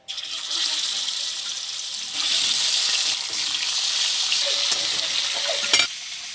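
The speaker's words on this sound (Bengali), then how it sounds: "মাছটা ভাজা হয়ে গেছে, তুলে নেবো।" Fish frying in hot oil in a pan for a potato and fish curry, a loud, steady hiss of sizzling that swells slightly partway through and carries on to the end.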